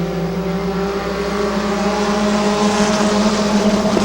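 Race cars running around the oval at Midvale Speedway, a loud, continuous engine roar with layered droning tones that swells slightly as the pack pushes into a turn.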